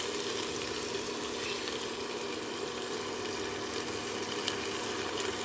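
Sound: fried fish gently stirred in masala

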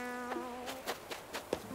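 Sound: bee buzzing in video game Animal Crossing: New Horizons

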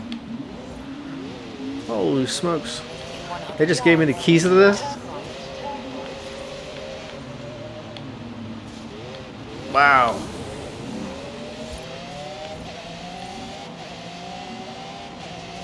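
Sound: Nardo Gray wide body Corvette engine revving, Forza Horizon 5 video game

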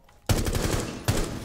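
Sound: gunfire in the video game Rainbow Six Siege

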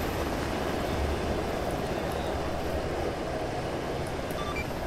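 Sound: helicopter in a video game

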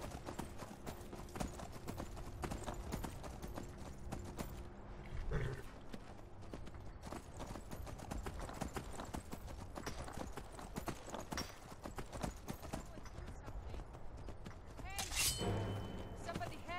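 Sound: horse hooves clip-clopping in video game Skyrim

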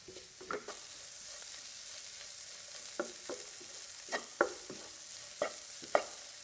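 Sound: stirring a spice mixture with ground pepper for wambatu moju

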